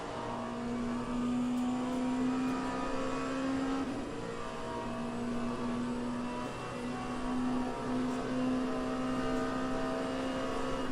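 A Lamborghini race car in the Le Mans Ultimate game holds a loud, steady engine note close by, its pitch rising and dipping slightly through gear changes, with no talk over it.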